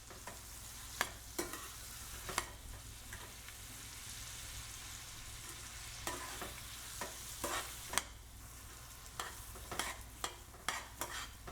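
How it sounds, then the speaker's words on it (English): Onions and turmeric sauté on low heat in a pan, a soft continuous sizzle broken by sharp scrapes and clicks of stirring, with no talk. "Here I'm just showing you just a few minutes of sauteing, just till turmeric kind of cooks a little bit and onions start, wilting a little bit."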